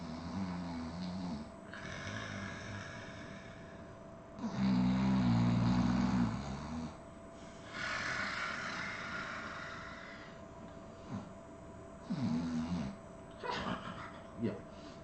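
Low, rasping snores play as a sound effect in a tabletop role-play game, rising in two loud bursts over a murky background while people talk.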